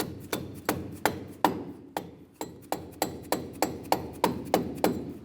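On a 1993-1997 Ford Ranger, a hammer taps a shock absorber into place over its stud during radius arm and bushing work, giving a steady series of sharp metallic strikes, loud and close, with no talking.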